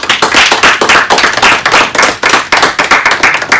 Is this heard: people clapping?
yes